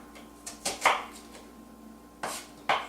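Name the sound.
knife chopping food into small diced pieces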